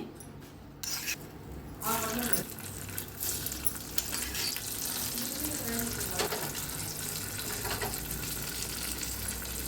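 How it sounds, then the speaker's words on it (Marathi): A steady hissing sizzle as hot tempering is poured onto curd rice, continuous and close, with a few soft clatters at the start. "आता ओतायच्या ह्याच्यावर फोडणी।"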